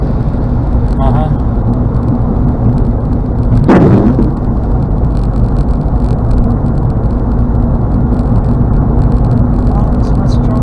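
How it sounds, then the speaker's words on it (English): Heavy highway traffic on Florida's Turnpike between Fort Pierce and Stuart, a steady loud roar of passing vehicles with one sharp thump partway through, while people chat over it. "Oh, it's much traffic."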